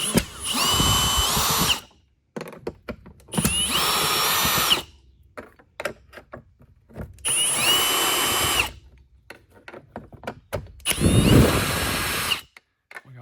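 Four loud whirring bursts from a power drill backing screws out of the plastic shell of a Hoover Tempo upright vacuum, each lasting one to two seconds, with clicks and handling sounds in the gaps and no talking.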